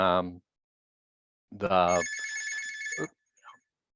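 A telephone rings once in a short electronic burst, clear and close, just after a man's brief speech during a virtual conference call on catching and releasing fish.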